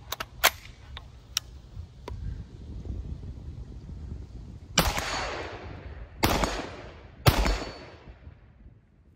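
5.56 rifle rounds fired from an IWI Tavor strike a steel plate downrange, giving three loud, sharp impacts, each with a ringing decay, over steady wind and some softer earlier pops.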